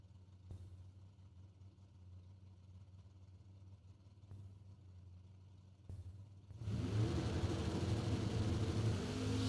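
A 1969 Chevrolet Camaro drag car idles with a low rumble and a few sharp pops. Then the engine surges into a loud, sustained rev near the end, heard alone without voices.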